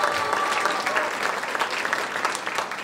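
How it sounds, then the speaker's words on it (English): A crowd gives steady, dense applause to 14 contestants at the Miss & Mrs Allure India 2019 fashion show, a continuous wash of clapping with no break. "Can we have a huge round of applause once again?"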